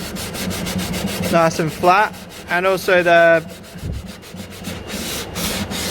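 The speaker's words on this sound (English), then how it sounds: "now I'm just sanding it" Rhythmic back-and-forth rubbing of sandpaper on a planed wooden edge, close and steady, while a person talks over part of it.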